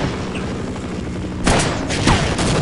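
Gunfire in the Half-Life mod Outrun, a sharp burst of shots cutting in after a steady background hum, followed by a couple more loud cracks close by.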